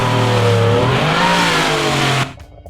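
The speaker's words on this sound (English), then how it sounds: "manual revving, of course, works, and it's pretty cool because you see where the engine currently is." A car engine in a game under development gets revved by hand, pitch climbing and sagging in a smooth sweep before cutting off abruptly into near silence.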